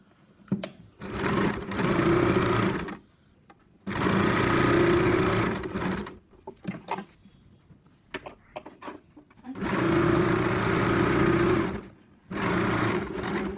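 A sewing machine stitches a quarter-inch seam over a hand design in three long whirring bursts, with brief clicks and fabric handling in the pauses between runs.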